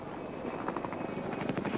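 A Soviet helicopter in flight, its rotor and engine noise a steady, even drone that holds throughout with slight pulsing, moderately loud and heard alone without talk.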